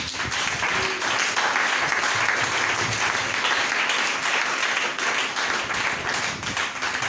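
A church congregation applauds and cheers in praise of the Lord, a loud, dense, sustained wash of clapping that carries unbroken from start to finish.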